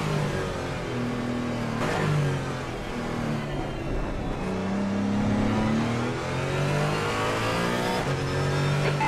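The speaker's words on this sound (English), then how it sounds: "Faster cars approaching." Race cars roar past in Assetto Corsa Competizione during a multi-class endurance race at the Nürburgring, with loud, continuous engine notes rising and falling as cars accelerate and shift and several machines overlap close by.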